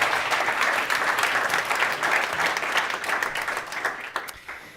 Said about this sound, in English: applause for our speakers here